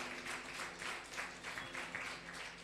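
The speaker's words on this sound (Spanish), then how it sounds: "Dale un fuerte aplauso al Señor." A church congregation claps in a steady, rhythmic applause, heard faint and somewhat distant, with many hands beating together in a regular pulse throughout.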